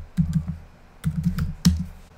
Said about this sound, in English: go ahead and type in BAW Login Logout